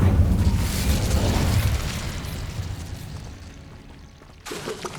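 An Incendio fire spell cast in the video game Hogwarts Legacy bursts with a loud, booming whoosh that decays into a fading roar, followed by a sharp new crackle near the end, with no voices.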